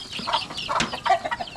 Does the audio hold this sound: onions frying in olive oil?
no